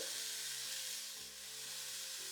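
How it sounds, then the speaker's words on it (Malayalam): Grated coconut, chopped garlic, black pepper and fennel seeds roast in a pan for a raw mango curry, giving a steady close sizzle with faint stirring. "പെരിഞ്ജീരകം ഇത്രയും കൂടെ ചേർത്ത് ചുവന്ന് വരുന്നവരെ നമ്മൾ വറുത്ത് കൊടുക്കുകയാണ്."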